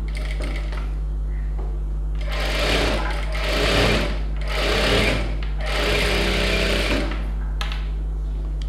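A sewing machine stitches around a blouse sleeve in several steady bursts of rapid, close mechanical chatter, separated by short pauses, over a constant low electrical hum.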